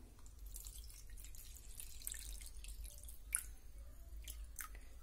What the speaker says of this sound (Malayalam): ഇനി ഇതിലേക്ക് ഒരു കപ്പ് വെള്ളം ഒന്ന് ആദ്യം ഒഴിച്ചു കൊടുക്കാം.